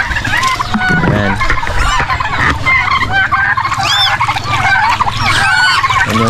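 Geese on a farm honk loudly and continuously, with many overlapping birds calling close by against a low rumbling background.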